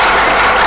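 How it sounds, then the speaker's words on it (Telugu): Audience applause at a political rally speech, a dense, steady wash of clapping that fills the whole brief moment at close, loud level. "మీరు చప్పట్లు కొడతారు"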